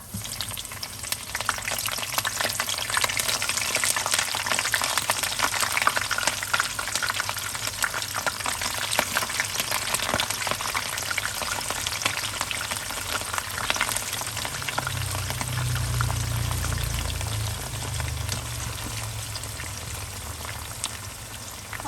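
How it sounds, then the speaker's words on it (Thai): Shredded cabbage frying in hot oil for a Thai vegetarian braise, a steady dense sizzle and crackle running throughout, with a deeper bubbling surge near the end and no talking. "จากนั้นให้เรานำกระหล่ำมาทอดนะคะ"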